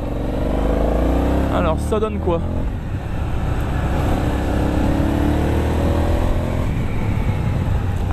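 Aprilia Shiver 900 motorcycle, restricted to 47 hp, pulls steadily under acceleration while being ridden, with a constant loud engine drone and wind rush, as a rider speaks briefly over it.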